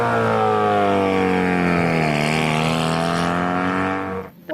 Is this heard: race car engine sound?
yes